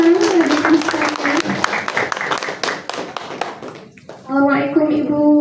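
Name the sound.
audience applause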